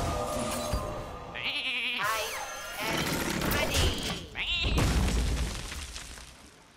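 Sheep bleat in the card game Hearthstone amid crashing and smashing effects, wavering cries rising and falling over busy, loud game noise with talk mixed in.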